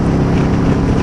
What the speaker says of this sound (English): I really like the exhaust note.